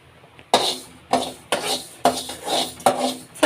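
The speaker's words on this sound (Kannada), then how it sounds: "ಈಗ ಮೆಂತ್ಯ ಕಾಳನ್ನ ಹುರ್ಕೊಳ್ಳೋಣ." Fenugreek seeds tossed in a metal pan on a stove, giving a series of loud rattling scrapes and clinks in repeated bursts, close by and with no talking.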